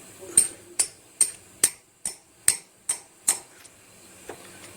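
Eight evenly spaced sharp metallic taps of a socket driving a valve seal in on an LSA engine, followed by a faint final knock as it bottoms out.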